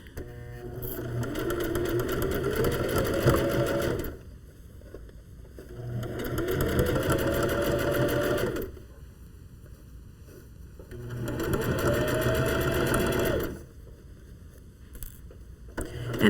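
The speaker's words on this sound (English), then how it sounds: "So we're going to start stitching here 3/8 inch seam allowance again, and again on a narrow zig." A sewing machine runs a narrow zigzag stitch along a 3/8-inch seam on a mitten lining, working in three steady runs of about four seconds each with quiet pauses between them.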